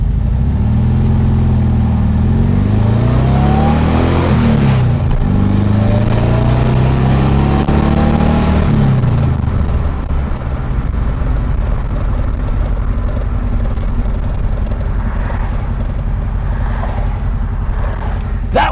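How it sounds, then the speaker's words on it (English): A supercharged 1600cc VW Karmann Ghia engine with an AMR500 supercharger pulls hard on a test drive, its rising supercharger whine climbing with each rev over a loud engine drone, while someone talks over it. "the supercharger, man, that whine is"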